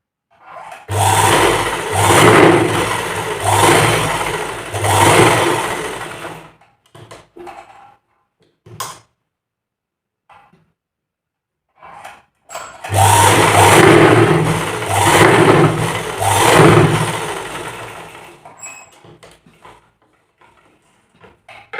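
A sewing machine stitches three sides of a cloth square made from waste fabric, running in two loud bursts of about six seconds each, separated by a quiet pause with faint handling sounds.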